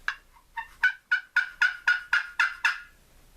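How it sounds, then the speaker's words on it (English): Slate turkey call worked for turkey hunting: a run of about nine sharp, evenly spaced yelps that build in loudness, clear and close with no talking. "I might be sitting there using my slate call."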